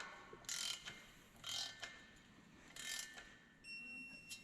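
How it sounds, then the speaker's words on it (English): A digital torque wrench ratchets in three short, faint clicking bursts while bolts are tightened during a Duramax diesel engine install in a GMC TopKick truck, followed by a steady electronic beep as the wrench zeroes for an angle pass in a quiet shop. "Got to let the torque wrench zero here for angle."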